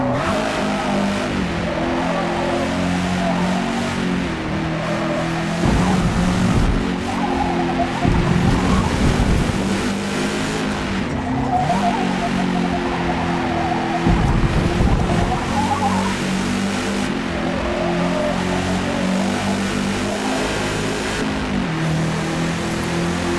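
Race car engine from Forza Motorport lapping a circuit, steady loud drone with rising and falling revs through shifts and occasional tyre skids, continuous with no talk.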